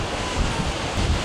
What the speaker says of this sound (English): I can feel the wind even more here